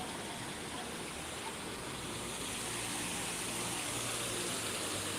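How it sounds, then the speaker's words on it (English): A steady, dense rush of water spraying and falling in an Epcot fountain, continuous and fairly loud with no breaks, heard up close without voices. "just sitting by the fountain, listening to the water sprinkle over"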